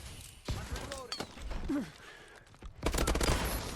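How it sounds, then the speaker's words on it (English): Gunfire in Call of Duty: Advanced Warfare, played on PS3: several sharp shots and short bursts go off close by. Brief voice chatter mixes in, and a heavy final volley comes at the end. "getting shot in the back"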